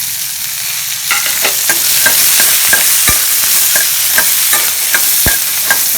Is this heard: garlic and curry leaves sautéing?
yes